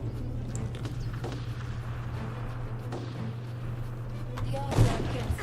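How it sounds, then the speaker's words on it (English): A cannon fires in the Dungeon Siege 3 video game, a single muffled boom near the end over a low, constant game ambience drone. "The cannon's already aimed at the cannons below"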